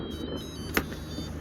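A Lowrance Elite 5 DSI fish finder sonar unit on a kayak runs with a steady low electronic hum and one sharp tick partway through, close by and fairly quiet.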